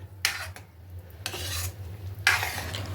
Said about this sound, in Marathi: आता आपण फक्त त्याला ढवळून घेत आहोत